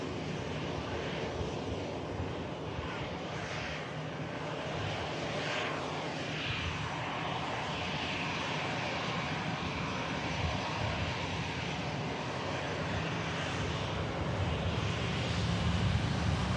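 A Luxair Dash 8 turboprop airliner departs with a steady, moderately loud engine drone and propeller roar that holds throughout, with light wind buffeting the microphone and no talk.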